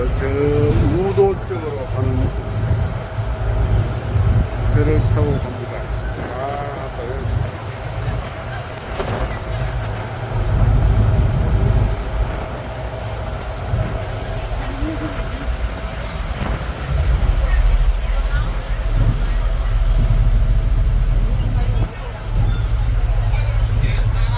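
A large ferry crossing rough, high waves from Jeju to Udo in strong wind, with a loud low engine rumble and heavy wind buffeting the microphone throughout, while a person talks over the noise.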